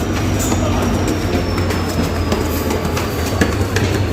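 A train travelling at night rumbles steadily with continuous rail clatter, faint wheel squeal and scattered clicks, loud and close throughout, with no talking.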